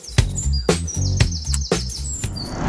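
Manakin birds in the Amazon forest: sharp snapping clicks punctuate a steady rhythm amid high chirps and whistles, a busy, close outdoor chorus with no talking.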